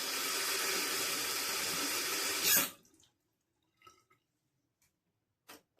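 Water runs steadily from a tap while a Schick Krona safety razor is rinsed. The rush cuts off abruptly, leaving a few faint drips and small clicks.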